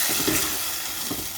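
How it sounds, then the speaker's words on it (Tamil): Broad beans are stirred into sambar in a cooking pan, a soft continuous sizzle with gentle scraping swirls of the spoon, close and fairly loud, without any talk. "இதை சேர்த்து நல்லா மிக்ஸ் பண்ணிக்கோங்க."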